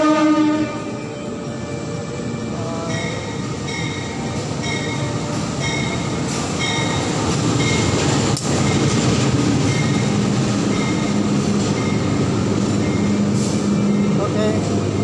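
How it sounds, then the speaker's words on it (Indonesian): The Kertanegara passenger train running from Purwokerto to Malang rolls past in a long, loud, continuous rumble with faint rhythmic clatter and tonal horn-like lines, a voice talking over it. "Oke, kereta api Kertanegara dari Purwokerto Malang."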